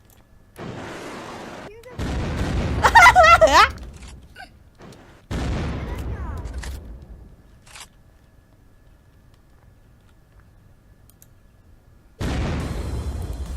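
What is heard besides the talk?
rocket fire and explosions in the video game Unturned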